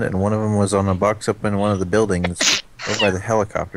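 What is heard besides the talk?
a person sneezing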